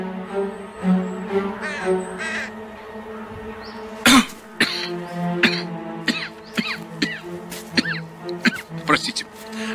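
A man coughing and clearing his throat several times in short bursts, with people talking around the coughs.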